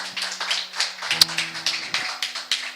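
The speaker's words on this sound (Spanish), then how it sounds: "¿Cuánto dan un aplauso al Señor por esta palabra?" A small church congregation claps in praise, sparse and uneven hand claps at close range against a quiet background with a sustained low organ-like tone.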